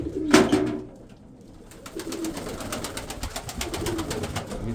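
Barley-fed pigeons coo in a loose flock, one loud nearby coo first, then a quieter lull followed by a steady murmur of overlapping cooing and faint fluttering.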